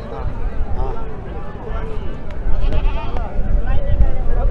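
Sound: goat bleating, Gulabi Punjab breed, at livestock market

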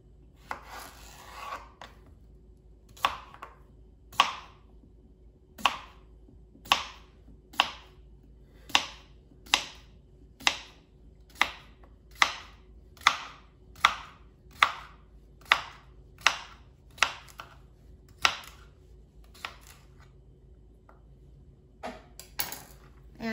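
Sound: chopping cucumber into pieces

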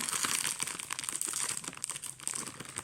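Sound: unwrapping a gift box, crinkling packaging

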